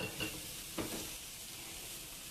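Onions sizzle in a hot pan as the cook tosses them, with a soft frying hiss and two short whooshing bursts where the pan is flipped, heard close and without talk.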